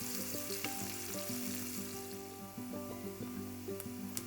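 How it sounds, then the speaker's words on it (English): Onions frying in hot oil while stirred in a pan, a quiet steady sizzle with faint scraping and a few soft clicks, heard up close beneath a background of sustained musical tones, no voices. "When the oil is hot, you can add the onions. Stirring the onions, you can cook them for 3 to 4 minutes."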